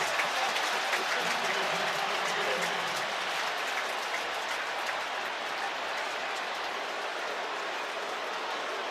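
A dense stadium crowd roars steadily throughout an NFL game between the Chiefs and Ravens at night, a broad sustained wash of cheering and noise with no distinct voices, easing slightly after the first few seconds.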